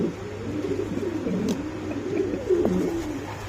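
A male pigeon coos nearby in a steady, low, rolling murmur that swells and repeats throughout, close and fairly loud with no talk over it.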